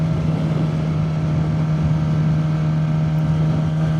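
Suzuki GSX-R motorcycle engine running at a steady hum while riding, a constant droning tone with continuous wind-like rush and no spoken voices.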